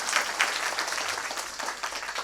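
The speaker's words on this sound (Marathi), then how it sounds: "त्यांच्या नावाने एकदा टाळ्या वाजवा" Audience at an outdoor Marathi Varkari kirtan giving a round of applause for Vishal Maharaj, a dense burst of many hands clapping together, loud and steady with a few sharper peaks.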